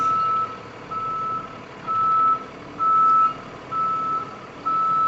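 A shunt truck (yard dog) reverses a trailer into a spot in a truck yard, its backup alarm giving six steady, evenly spaced beeps over the low rumble of the engine, with no talking.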